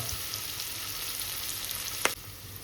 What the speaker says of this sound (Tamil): வெங்காயத்தை ஒரு 5 நிமிஷம் நல்லா வதங்க விடுவோம்.